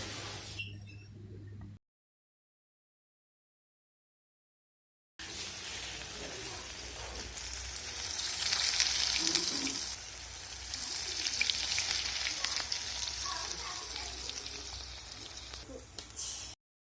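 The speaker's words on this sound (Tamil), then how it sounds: "இனி ஒவ்வொன்றாக பொரிச்சு எடுக்க போகிறோம்." Breaded homemade rolls deep frying in hot oil, a steady close sizzle with crackling bubbles after a short silent gap, rising in intensity midway and then settling.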